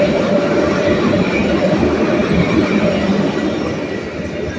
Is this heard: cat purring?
no